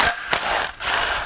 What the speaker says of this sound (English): Go ahead and start zipping some head bolts out and see what it looks like underneath this head.